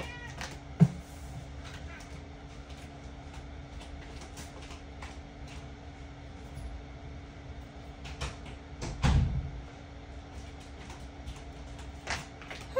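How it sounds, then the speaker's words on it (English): A cat meows indoors, one short meow early on and a louder, drawn-out meow later, over a steady low electrical hum with scattered soft knocks. "I'm gonna go move my cat real quickly."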